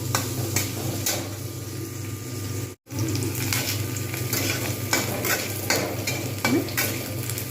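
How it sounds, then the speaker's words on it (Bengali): Onions fry steadily in a pan for an egg tadka, a constant close sizzle under repeated scraping and clinking strokes of a spoon, with one brief break in the sound. "যতক্ষণ পর্যন্ত না ভালোভাবে ভাজা হচ্ছে আমি কিন্তু ততক্ষণ ধরে এটাকে আমি ভাজতে থাকবো"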